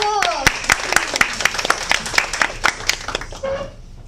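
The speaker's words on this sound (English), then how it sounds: "Let's give her a big applause." A small audience at a Toastmasters club meeting claps by hand in a steady, sparse patter of distinct claps, loud and close, that thins and fades after a few seconds.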